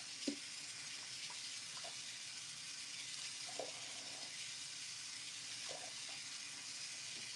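Hair freshly dyed with Splat Midnight Ruby red being rinsed under running tap water, a steady broadband rush of water with a few small splashes and clicks, continuous and close, with no talk.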